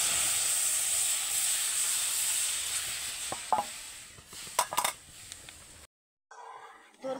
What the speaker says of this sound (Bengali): রসটা এবার কড়াইতে দিয়ে দেবো।